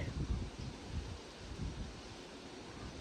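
Blustery outdoor wind buffeting the microphone, a continuous low rumbling roar with gusty swells and rustling, no talk.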